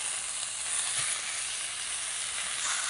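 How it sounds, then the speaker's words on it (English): Meat searing in a hot pan before braising gives a steady, even sizzle and hiss that holds at close range without a break, with no voices. "A nice sear."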